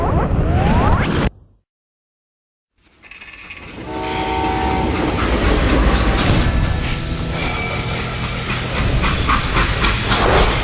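A steam freight train in the Western shooter Call of Juarez: Gunslinger opens with a loud hissing rumble that cuts to brief silence, then rolls back in as a heavy, continuous clatter with sustained whistle-like tones.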